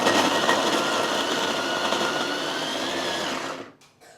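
A food processor blitzes ginger with a little water into a paste, a loud steady whirring grind lasting several seconds before cutting off abruptly.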